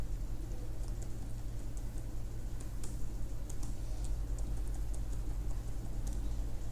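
Light typing on a computer keyboard while filling in a form: scattered soft key clicks sit faintly over a steady low background hum throughout.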